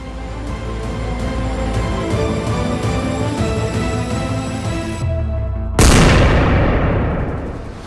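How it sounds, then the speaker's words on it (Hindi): A single huge cannon blast at a hill fort in the Sahyadri mountains bursts out after several seconds of steady rumbling, its boom loud and close, then rolling away as it slowly fades. "ये आवाज है दुश्मन की छाती को दहला देने वाली तोप की।"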